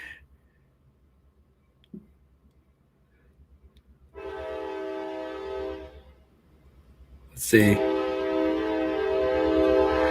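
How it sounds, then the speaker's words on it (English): A train horn sounds as a train passes through town, two loud sustained blasts with a pause between them, the second long and strong, with quiet background before. "There's a train going through town."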